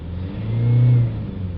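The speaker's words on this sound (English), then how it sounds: "Now we're just going to give it a few revs up and down just to get the fluid cleared out" A Honda 2.2 diesel engine with a blocked DPF revs up once and settles back to idle, the engine note swelling and fading over about a second, close and steady.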